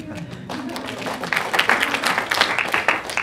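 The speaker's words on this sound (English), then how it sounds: "make sure you give him some of the applause as well" Audience clapping builds after a moment of voice at a Pecha Kucha talk, turning into a brisk, fairly close patter of claps.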